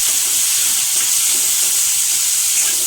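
Chopped onions, green chillies and curry leaves fry in a pan for a salt fish and okra stew, giving a loud, steady, close hiss of sizzling oil with no talk.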